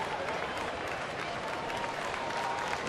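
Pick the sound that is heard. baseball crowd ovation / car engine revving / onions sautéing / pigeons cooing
baseball crowd ovation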